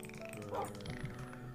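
Tamed dogs in the Minecraft video game give a few brief yips and barks, fairly faint, with a soft whimper-like tone at a moderate distance.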